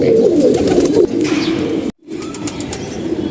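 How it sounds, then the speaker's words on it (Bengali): Racing pigeons coo steadily in a low, throaty murmur, close and fairly loud, with a brief dropout midway before the cooing resumes. "এই যে একটা সিলভার কবুতর দেখতে পাচ্ছেন"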